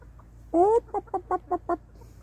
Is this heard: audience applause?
no